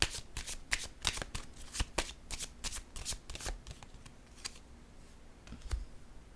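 A deck of oracle cards is shuffled by hand in quick, irregular bursts of soft riffling and flicking, close and fairly quiet, with no talk.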